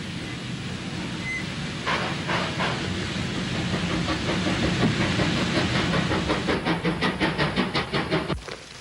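A 1941 shunting steam locomotive runs over railway tracks, with a loud rumble and hiss that build, then a fast, rhythmic clickety-clack of wheels over rail joints before it cuts off abruptly.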